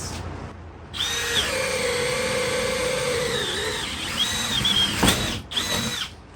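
A HyperTough brushless drill driver drives a 5/8 bit, whining loudly up close with changing pitch, then breaks into brief ratcheting clicks near the end.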